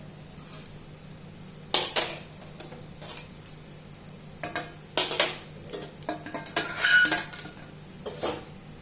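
Cooked raw mango gojju scraped and spooned from a pan onto a plate: repeated metal clinks and scrapes of a ladle against cookware, close and fairly loud, in irregular bursts with no talking.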